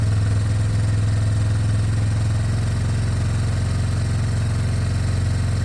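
A 2003 Yamaha Big Bear 4x4 ATV engine idles steadily after starting, a close, continuous low throbbing rumble with light clatter, alone without talk.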